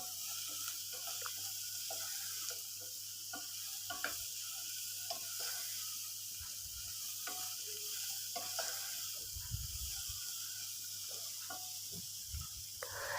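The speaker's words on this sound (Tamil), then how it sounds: "கேரட்டும் பீன்ஸும் எண்ணெயிலேயே நல்லா வதங்கணும்," Carrots and beans sautéing in oil while being stirred, a soft steady sizzle broken by repeated scraping and clinking of the spoon against the pan, close and fairly quiet.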